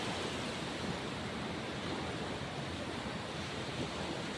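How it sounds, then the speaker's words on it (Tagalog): Steady broadband wash of sea waves on a beach, continuous surf noise with some wind at even, moderate level and no voices. "Yan po ang dagat."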